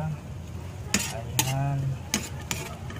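A spoon stirs adobo seasoned with pepper in a pan, making a few scraping metallic clinks over a steady background sizzle, with brief voice sounds in between.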